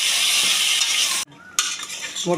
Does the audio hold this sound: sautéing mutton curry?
yes